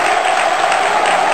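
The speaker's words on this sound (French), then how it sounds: "Je demande d'applaudir et non de crier." Dense, steady clapping from a large crowd, loud and continuous throughout with a bright, hissy texture and no voices standing out.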